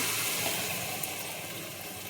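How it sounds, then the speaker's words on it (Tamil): A continuous rushing splash of water being poured into a pan of Madurai-style fish curry with masala, steady and fairly close, with a faint sizzle underneath. "உங்கள் தேவைக்கு தக்கன தண்ணி ஊற்றிக்கோங்க"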